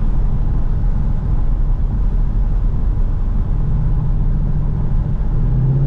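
Mustang GT being driven along a wet mountain road in the North Georgia mountains south of Lake Burton: a loud, steady low engine rumble with road and tyre noise heard from inside, gently rising in pitch near the end.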